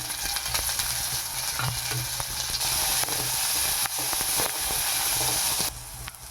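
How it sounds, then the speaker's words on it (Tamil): Onion, garlic, ginger and curry leaves sizzling steadily in hot oil while being stirred, a loud continuous frying hiss with occasional spatula scrapes, close and without talk. "எண்ணெய் காஞ்சிடுச்சு இந்த டைமில் வெங்காயமும் பூண்டு அப்புறமா இஞ்சி கறிவேப்பிலை இது எல்லாமே ஒன்றா போட்டு நம்ம வதக்கலாம்"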